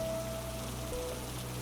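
Steady rain falls, a soft continuous patter of drops on a surface with a faint low hum beneath, constant and unbroken throughout.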